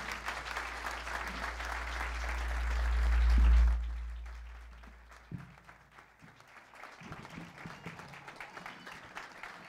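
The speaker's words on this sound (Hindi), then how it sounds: "खुदा के खादम के लिए ज़ोरदार तालियाँ" Church congregation at a Sunday Urdu service applauding loudly and steadily for several seconds, then the clapping fades into quieter scattered claps and room murmur.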